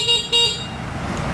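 An electric bike's horn honks loudly and close, a short double toot followed by a sustained nasal blare.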